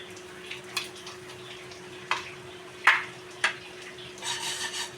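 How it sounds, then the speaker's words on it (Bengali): Papaya being stirred with sugar in a pan for papaya sweets, with soft scraping strokes and a few sharp spoon taps against the pan over a faint, steady cooking hiss. "অনবরত নাড়তে হবে যেন না ধরে যায় তলা।"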